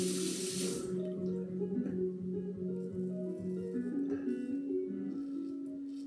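A tap runs steadily as an aluminium razor is rinsed under it, a close, even rush of water that starts with a bright splash and settles into a constant flow.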